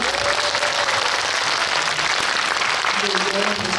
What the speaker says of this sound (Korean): 감독님께 일단 박수 한번 드리고